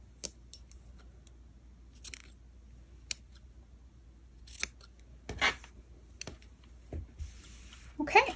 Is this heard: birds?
no